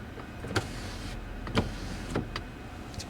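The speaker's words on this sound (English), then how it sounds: "Here's our rear window control." Rear power window on a 2025 Ford F-250 Lariat Tremor with the 7.3L V8 running, a steady low motor hum in a quiet cabin with a few soft clicks and thumps.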